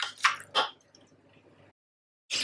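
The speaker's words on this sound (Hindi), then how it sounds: "अब हम इसको अच्छे से मिक्स करेंगे ताकि जो है वो प्याज और लहसुन और अदरक जो है वो अच्छे से बीफ के साथ मिक्स हो जाए" Mutton being stirred with chopped onion, garlic and ginger gives two wet squishing bursts, then a softer sizzling shuffle that stops abruptly before another short squelch at the end.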